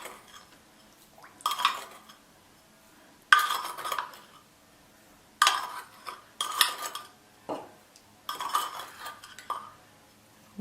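A metal spoon clinks and scrapes against a 2.5-litre pot in short bursts while sugar is added, about six separate rounds with quiet pauses between, close by.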